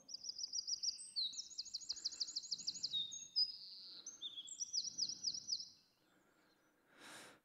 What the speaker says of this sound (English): That's a burst of wren song